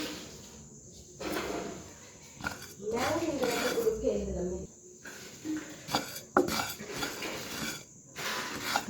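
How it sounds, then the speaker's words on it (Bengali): Mung dal dry-roasting in a wok while being stirred gives off intermittent scraping and clattering, loud and close, with a voice speaking over part of it. "এবার আমি প্রথমেই ডালটা একটু ভেজে নেবো"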